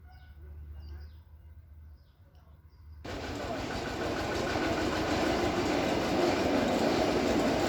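Train rolling through Lampang station in northern Thailand with a small child aboard, a low rumble rising suddenly after three seconds into loud, steady close-range rail noise and clatter.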